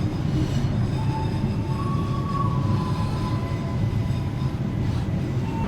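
A Sriwijaya Utama train passes close by while riding the Sribilah Utama train near Medan, a loud steady rumble of wheels and carriages with faint squeals, continuous throughout.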